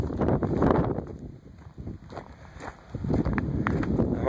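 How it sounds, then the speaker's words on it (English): Low rumbling wind buffets the microphone in uneven gusts, loud and close, with faint outdoor noise behind it. "It's windy out here."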